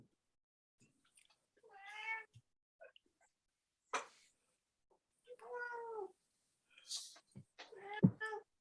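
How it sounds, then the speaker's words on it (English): A cat whines with several drawn-out, harmonic meows spread across the stretch, fairly close but at moderate level, with quiet gaps and small knocks between calls and no talk over them. "I don't know if you can hear my whining cat"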